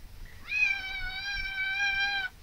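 A single long, steady cat meow rising and holding for about two seconds, clear and close over a quiet, slightly rumbling background with no talking.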